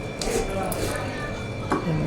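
A blade chops through tender young jackfruit in a few soft, dull cuts, close by and fairly steady under a continuous background hum, with a voice speaking.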